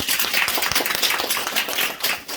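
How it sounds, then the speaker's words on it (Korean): A crowd applauding together, dense overlapping claps in a steady wash of sound, fairly loud and continuous throughout. "우리끼리 서로 한번 박수 한번 드립니다"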